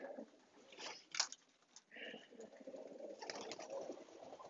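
Racing pigeons coo softly while feeding on reindeer corn, with a throaty low murmuring running throughout, punctuated by pecking taps and rustling near at hand.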